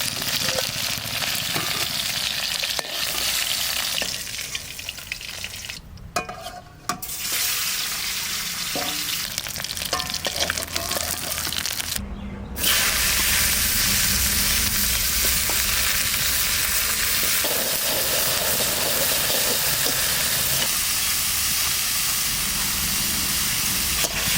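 Fish and bitter gourd with potato frying hard in a home kitchen pan, a loud steady crackling sizzle throughout, briefly broken by stirring scrapes before it swells again.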